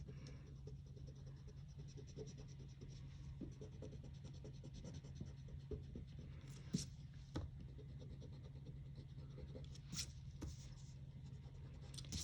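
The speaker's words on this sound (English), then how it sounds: "I'm going to go ahead and erase my excess lines" An eraser rubs out pencil lines on paper, giving faint, steady, scratchy rubbing with a few sharper scrapes over a low background hum.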